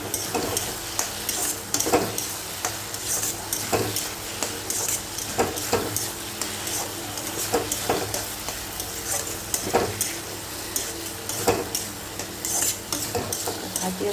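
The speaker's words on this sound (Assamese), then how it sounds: "ভাজি আছোঁ।" Bottle gourd and prawns fry in a pan with ground cumin and coriander, a constant loud sizzle broken by repeated scraping strokes of a spatula against the pan at an irregular pace.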